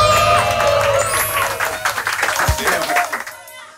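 An audience applauding as a singer is introduced to perform at a Korean music show, a short burst of clapping and cheering with background music that fades within about four seconds.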